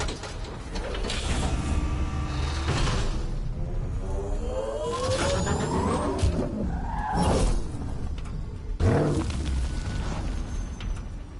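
The Nomad vehicle from Mass Effect Andromeda driving and skidding, with loud mechanical rumbling, scraping slides and sharp impacts that swell and recede over several seconds, and no talk.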